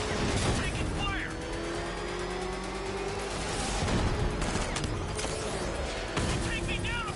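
Gunfire in the Batman: Arkham Knight game, repeated rapid shots and bursts over steady engine-like vehicle rumble and game noise, loud and continuous through the stretch, with a voice speaking in places.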